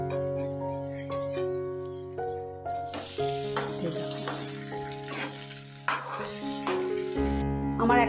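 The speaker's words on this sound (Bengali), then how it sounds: "ঠিক এইভাবে লাল লাল করে ভেজে নিতে হবে।" A healthy breakfast snack fries in oil in a pan on low gas, giving a steady soft sizzle under background music with tonal notes throughout.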